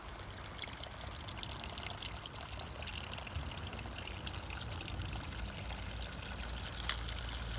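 Water streams steadily down a channel on a stream erosion table, a continuous close trickling and pouring wash at even loudness with no pauses.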